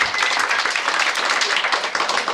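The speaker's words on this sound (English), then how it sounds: "let's give her a big round of applause" Audience clapping for a volunteer called up on stage at a 1993 family magic show at the grandparents' home, a dense, steady wash of hands with no pauses, close and moderately loud throughout.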